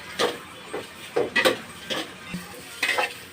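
A utensil stirs and crushes large prawns in a cooking pan, giving intermittent scraping clinks and taps against the metal with a faint sizzle between strokes, close and unhurried.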